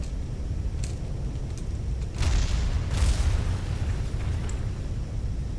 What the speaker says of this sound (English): There's still pieces exploding down there